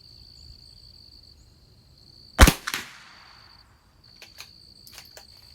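A single sharp gunshot from a Christensen Arms Ranger .22LR rifle at a long-range target match, a crisp crack with a short decaying tail, followed by faint clicks and a steady high tone in the quiet surroundings.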